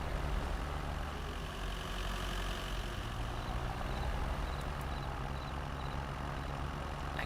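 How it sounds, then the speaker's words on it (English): Tractor engine in Farming Simulator 22, a low steady rumble at moderate level with a constant idling drone, no talking over it. "This tractor's faster than you."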